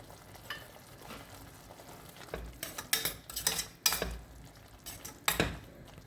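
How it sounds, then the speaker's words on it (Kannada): Tomato puree gravy for vegetable kadai bubbles and sizzles in a pan. Repeated clinks and scrapes of a spoon stirring against the metal pan stand out, with no talking. "ನೋಡಿ ಹೀಗೆ ಕುದೀತಾ ಇದೆ."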